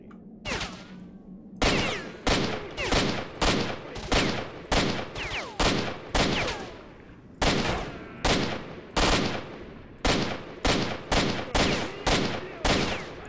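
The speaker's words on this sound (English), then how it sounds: "stop shooting at me" Rapid bursts of gunfire in S.T.A.L.K.E.R.: Shadow of Chernobyl, about twenty loud, evenly spaced shots cracking one after another through most of the stretch, with a brief low hum before the first volley and no talking.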